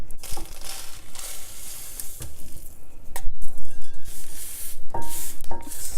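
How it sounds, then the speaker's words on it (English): Coriander seeds roast in a dry pan on a stove, giving a dense, close sizzling crackle with scattered sharp pops and a few clinks of a utensil against the pan, no talking. "You'll also hear the crackling sound."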